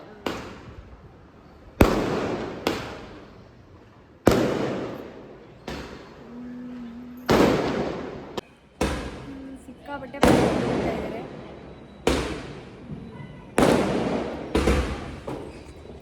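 Firecrackers burst one after another, about a dozen sharp bangs at irregular intervals, each trailing off in a ringing echo.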